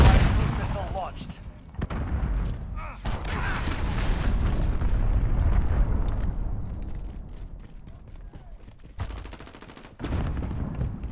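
Cruise missile launch and explosion in Call of Duty: Modern Warfare multiplayer, heavy booms and rumbling blasts mixed with gunfire and sharp cracks, a voice talking over parts of the din.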